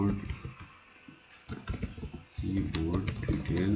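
Fingers tap on a computer keyboard while text is entered into a web form, in bursts of quick, close clicks with a short pause in the middle, and someone talks faintly underneath.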